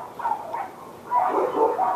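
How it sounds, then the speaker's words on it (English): Dogs bark and whimper next door, a few muffled yips and barks in mid-distance, coming in two short bursts at moderate loudness with no talk over them. "And the dogs are barking."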